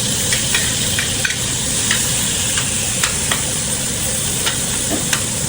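Corned beef sizzles steadily in a hot pan, stirred with a utensil that makes scattered sharp scrapes over a dense, continuous frying hiss, close and fairly loud.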